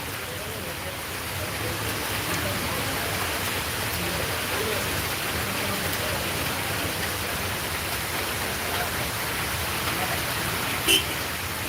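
Steady rain pours down in Sylhet, Bangladesh, a dense continuous hiss of drops on surfaces that stays even and fairly loud throughout, with no voices over it.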